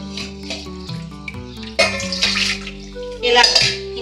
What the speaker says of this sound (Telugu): ఫస్ట్ కొంచెం చింతపండు కడిగేసుకుందామండి